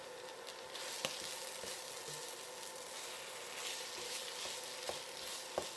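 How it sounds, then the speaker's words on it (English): Flour toasts in a pot for spicy corn chowder, giving a steady, close sizzle with a few small ticks and pops throughout and no voices. "I just want to toast the flour"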